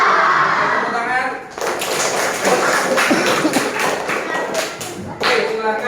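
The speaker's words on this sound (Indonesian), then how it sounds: "Tepuk tangan." Students in a classroom clap their hands together as a group, a burst of sharp taps and thuds that runs for several seconds, close and fairly loud, then breaks off briefly and resumes near the end.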